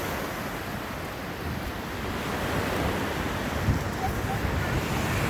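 Ocean surf washes steadily onto a beach where people are wading and surfers and paddle boarders are out, a continuous broad rush of breaking waves with some wind noise on the microphone, no distinct voices.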